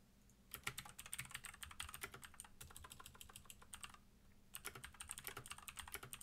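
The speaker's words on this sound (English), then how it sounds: "if you ever want to sound like a hacker, just get like a mechanical keyboard" Fast typing on a mechanical computer keyboard, bursts of crisp clacky keystrokes with a brief pause midway, close and clear in a quiet room.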